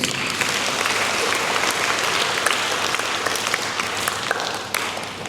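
An audience at a religious talk claps steadily for several seconds, a dense, even round of applause filling the room without speech.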